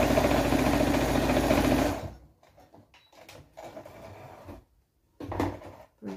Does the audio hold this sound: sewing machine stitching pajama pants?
yes